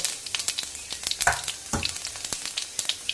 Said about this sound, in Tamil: ஐம்பது எம்எல் நல்லெண்ணெய் ஊற்றிருக்கேன் சோம்பு போட்டுட்டு